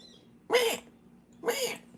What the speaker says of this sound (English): Some sort of a bird screaming out the window right now.